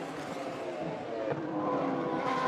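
Race cars of the BOSS GP series run through the chicane at the Assen circuit, with a continuous, dense engine roar and faint tire noise that swells toward the end.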